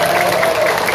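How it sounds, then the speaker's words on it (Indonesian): A crowd applauds the event committee at a community gathering, a short, dense burst of clapping with crowd noise and a faint voice tone mixed in. "mohon berikan tepuk tangan semangat untuk para panitia"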